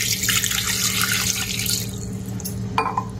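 Water pours into a mixie jar for a smoothie, a bright splashing trickle over a steady low hum that thins out after a couple of seconds, followed by a few faint drips and a light clink.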